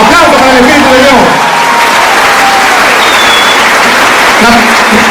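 A church congregation applauds loudly, a dense sustained clapping that fills the room, with a few voices and cheers mixed in.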